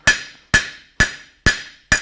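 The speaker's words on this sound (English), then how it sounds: "flip it over and start to fan out with the cross peen, like so" Five evenly spaced, ringing blows of a blacksmith's cross peen hammer spreading hot metal into a fan shape, each strike sharp and bright with a quick decaying ring, close and alone.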